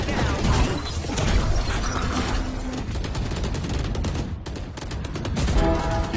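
Sustained automatic gunfire from Valorant, sprayed through a smoke cloud during a competitive round: dense, continuous rattling shots and mechanical clatter over busy game noise, loud and close throughout, with a brief lull near the end.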